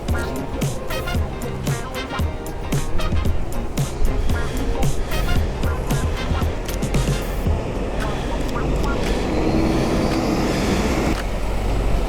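An old red London bus rumbles past in city traffic, a low engine drone swelling as it nears, mixed with street noise, sharp clicks and passing cars, while a voice talks over it.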